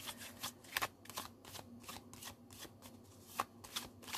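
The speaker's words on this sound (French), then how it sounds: "Je vais mélanger les arcades majeures." Rider tarot cards, the major arcana, being shuffled by hand in a quiet room: a steady run of soft riffling bursts with a few sharper card snaps, close and distinct, with no talking.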